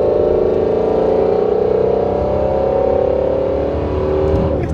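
A Shelby Mustang accelerates hard in sport mode, a loud, sustained engine roar climbing steadily in pitch from inside the car, with no talking.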